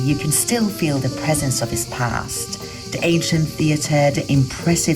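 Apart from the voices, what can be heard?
None of the usual background noises is heard.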